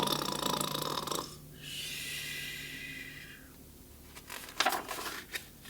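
A voice imitates a great big bear snoring during a Christmas story reading, with a long drawn-out rasping snore inhale followed by quieter breathy sounds, close and alone.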